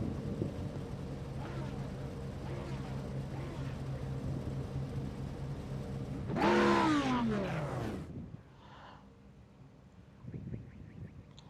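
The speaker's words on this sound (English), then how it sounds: "Looks like they're revving up, getting ready to go green." Race cars rev before the start at the Red Bull Ring, a dense rumbling engine drone that swells into a loud rising roar and then drops away abruptly, with faint distant engines after.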